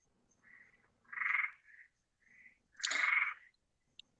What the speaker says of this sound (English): The frogs don't sound too bad tonight, Carla.